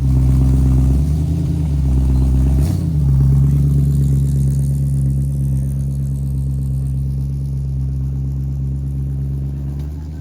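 Small block Chevy V8 in a flat black 1932 Ford Roadster hot rod idling loud and close, a steady rumbling lope with a brief blip of revs early on and no talking.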